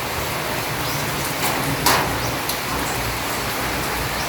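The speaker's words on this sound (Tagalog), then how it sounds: "Ayan na ulan." Light drizzle falling outdoors, an even soft hiss of rain spread across the whole stretch with a few faint drips and taps standing out briefly.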